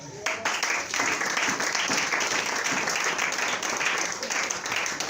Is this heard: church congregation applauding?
yes